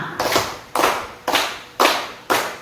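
A group claps in unison in five sharp, evenly spaced bursts, each clap a crisp, close slap that fades quickly before the next, with no talking.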